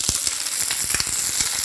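Ivy gourd (kundru) being fried in a pan gives a loud, dense, continuous sizzle, close up, with quick soft crackles running all through.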